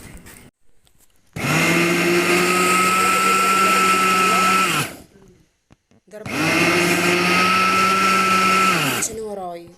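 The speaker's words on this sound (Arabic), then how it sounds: "هضرب اللبن في الخلاط" An electric blender whips soured milk in a kitchen, running loud and steady for about three and a half seconds, stopping, then starting again for another burst, with brief talk in the gaps.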